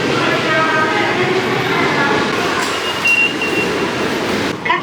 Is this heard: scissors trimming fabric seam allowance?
no